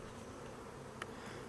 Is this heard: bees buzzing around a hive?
yes